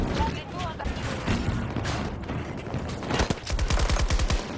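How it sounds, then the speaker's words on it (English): Rapid automatic gunfire rattles in the Battlefield 2042 Breakthrough mode, with irregular overlapping shots that grow into a quick, dense volley near the end amid chaotic battle noise. "Oh god, that's bullets. A lot of bullets on that side."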